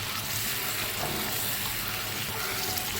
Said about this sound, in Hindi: प्याज हमारा पक रहा है